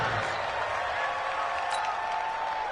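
A steady, loud stadium crowd roar from an American football video game on PS4 holds throughout the Jaguars drive, with a faint sustained tone running under it.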